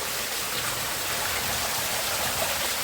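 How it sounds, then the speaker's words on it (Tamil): Water drips and trickles steadily inside a narrow cave temple, a continuous close hiss like rain on stone with no pauses. "தண்ணியில் அப்படி சொட்டிக்கிட்டே இருக்கு பாருங்கள்"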